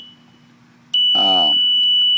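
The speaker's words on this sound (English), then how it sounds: "Let's mute this buzzer." An industrial alarm panel buzzer sounds a loud, steady, high-pitched continuous tone that starts abruptly and keeps going while someone briefly talks over it.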